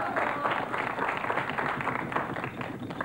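Studio audience applauding on a Wheel of Fortune game show, a dense, continuous patter of many hands clapping at close range for a few seconds, no voices over it.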